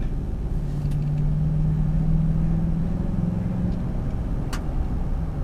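A 2001 Chevrolet Silverado with a junkyard replacement transmission drives along, its engine a close, steady low rumble with a slowly rising drone as it pulls through the gears, and a couple of faint clicks.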